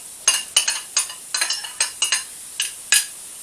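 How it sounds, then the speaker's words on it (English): Frozen sweet corn, carrots, onion and Brussels sprouts with chicken being stirred in a pan, a rapid series of sharp scraping clinks from the utensil against the metal, close and fairly loud, with no talking. "I'm going to keep mixing that round."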